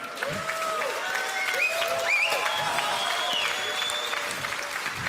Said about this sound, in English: Let's have a round of applause for Tone.